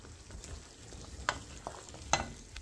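Soy sauce splashes into idly Manchurian sizzling in a pan, giving a steady low frying hiss broken by two sharp brief crackles as it hits the hot pan, with light stirring scrapes and no talk.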